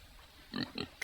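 A pig gives three short oinks in quick succession, close and moderately loud, over a quiet background hiss.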